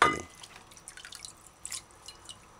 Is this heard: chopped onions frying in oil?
no